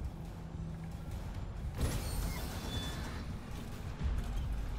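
A heavy mechanical sci-fi door on a derelict ship in the Dead Space Remake slides open with a creaking, grinding surge, fairly close, then a low rumble, set against a dark ambient drone.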